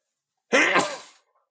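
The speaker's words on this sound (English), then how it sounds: "I'm gonna sneeze." A single sneeze from an adult, a short sharp burst with a brief intake, heard alone against silence.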